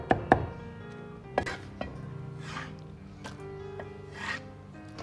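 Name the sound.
knife dicing tomato on a chopping board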